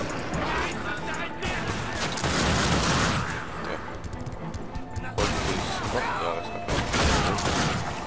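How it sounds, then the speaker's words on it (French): Shotgun blasts in the first-person shooter The Darkness 2 sound as dense, loud bursts of gunfire and crashes, with heavy volleys recurring across the span amid other game noise and someone talking. "j'ai entendu un bruit de shotgun"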